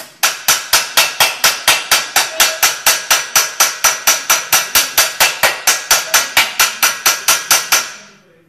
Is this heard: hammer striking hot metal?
yes